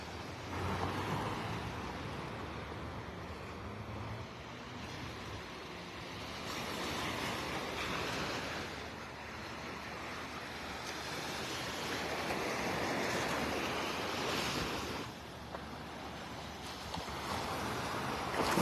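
Surf rolling onto Vanderbilt Beach in North Naples, Florida on a morning walk, a continuous broad wash of waves rising and falling in long swells, with wind rumbling against the microphone.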